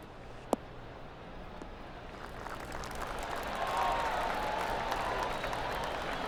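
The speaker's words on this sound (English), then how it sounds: "That deserves a golf clap." Crowd applause in the PGA TOUR 2K23 golf video game, a soft, steady patter of spectator clapping that swells slightly midway, distant and airy over a faint background hum, with one sharp click near the start.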